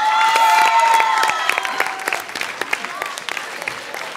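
Studio audience applause on a TV show starts as a full, loud burst with a voice over it, then thins out into scattered individual claps as it fades.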